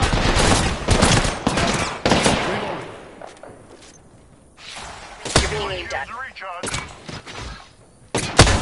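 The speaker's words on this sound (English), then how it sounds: "I'm getting shot." Gunfire striking the player's character in Apex Legends, with loud bursts and sharp impacts arriving in clusters over a dense game mix. A voice talks through parts of it.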